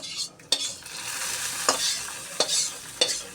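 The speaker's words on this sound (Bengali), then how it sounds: "পেঁয়াজটি বাদামি রং হয়ে এসছে, এখন আম্মু ডালে ছেড়ে দেবে।" Browned fried onions are stirred into mango dal in a pot, giving a steady wet sizzle and frying hiss with a few sharp scraping strokes of a spoon, close and without talk.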